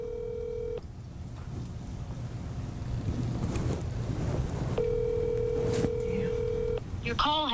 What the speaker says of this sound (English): we're going to go ahead and give her a call to try to see if we could potentially get her over here tonight